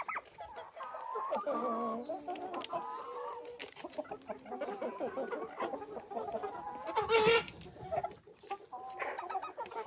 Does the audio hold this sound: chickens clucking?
yes